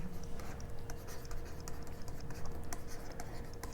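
Soft, quiet scratching of a pen or chalk writing out a maths solution, irregular strokes continuing steadily throughout.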